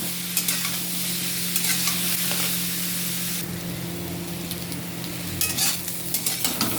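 Taro pieces fry in hot oil in a pan while being stirred, a steady close sizzle broken by scraping stirs and light utensil clicks throughout.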